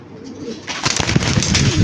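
A racing pigeon coos close by, a soft low call starting partway through and repeating in a quick burbling run over a light background hum.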